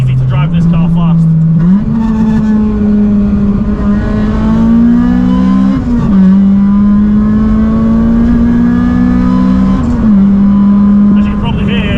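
A caged Honda Civic is driven hard from inside the cabin, its engine droning loudly as it climbs through the revs, with several crisp gear changes marked by brief dips and jumps in pitch.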